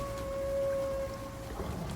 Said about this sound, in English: I'll run back to the cave because there's a storm on